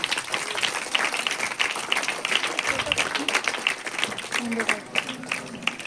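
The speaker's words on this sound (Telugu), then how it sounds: "అందరూ చప్పట్లతో ఆహ్వానించండి" A school audience at a parent-teacher meeting claps for a guest called to the stage. Dense, continuous applause fills the whole stretch at moderate loudness, with a voice heard briefly over it.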